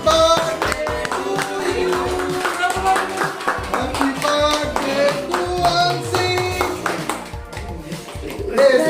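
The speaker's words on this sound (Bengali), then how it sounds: "হাততালি দাও তোমরা সবাই" Hands clap in rhythm at a family birthday celebration with candles, steady and close, mixed with voices singing and chattering, tonal ringing and bright pings throughout.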